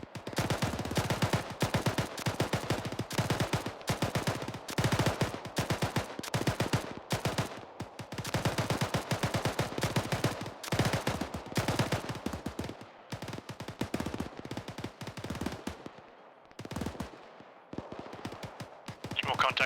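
Arma 3 gunfire crackles nearly nonstop, with rapid automatic bursts and scattered single shots at varied distances, loud and dense throughout.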